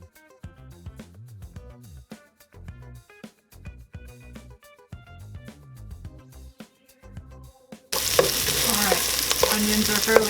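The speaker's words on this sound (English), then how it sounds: "then we will saute our onions for a couple minutes until they get clear" Chopped onions sauté in a couple tablespoons of oil in a soup pot for chickpea noodle soup. Music plays first, then a dense, fairly loud hiss of frying takes over for the last couple of seconds.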